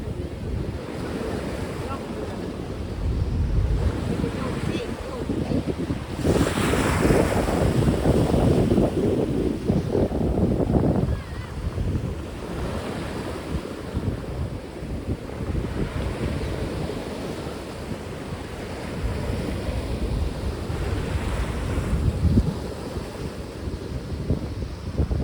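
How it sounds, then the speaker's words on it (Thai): Strong wind buffets the microphone on the Danish coast while sea waves surge and crash in repeated loud swells, with a roaring gust peaking midway. "โอ้คลื่น"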